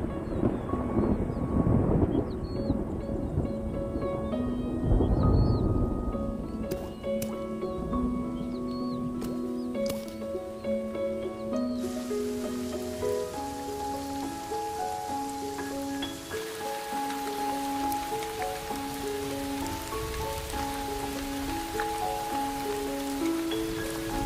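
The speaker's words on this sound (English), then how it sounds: "After months of drought and struggle, the rains finally arrive." Rain falls with low thunder rumbling in the first seconds after a long drought, then the steady patter continues under swelling orchestral music that takes over most of the stretch.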